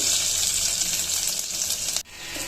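Bright, continuous sizzle of mustard seeds and garlic tempering in hot oil for sambar, close and loud, briefly cut by a sudden drop before the hiss resumes.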